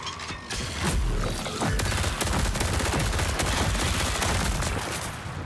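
Rapid, sustained gunfire in the shooter video game Marathon, with dense overlapping bursts of shots and sharp cracks that fill the whole stretch without speech.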